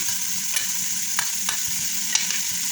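Onions stirred in a hot frying pan for chicken tinola give a steady close sizzle, broken by a few sharp scraping strokes of the spoon at irregular intervals, with no talking.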